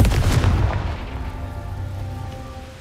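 A Confringo fire spell blasts in Hogwarts Legacy: a loud, booming burst that rolls off into a fading, crackling rumble, heard alone and close.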